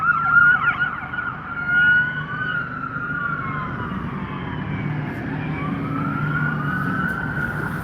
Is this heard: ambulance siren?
yes